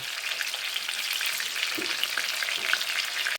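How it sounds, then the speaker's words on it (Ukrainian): Steady, close sizzling of pumpkin cutlets frying in a pan, a constant crackling hiss with no talking. "Перевертаю вже на другу сторону, вже смажилися з одної сторони."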